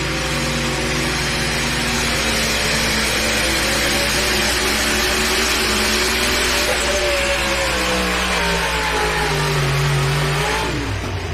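A pulling truck or tractor engine at a truck and tractor pull in Bowling Green, Ohio, roaring loud and steady through a run, its pitch climbing and shifting before easing off at the end.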